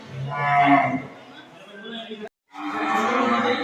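A large cow moos loudly and close by amid a noisy outdoor crowd, with a short deep call followed by another after a brief gap.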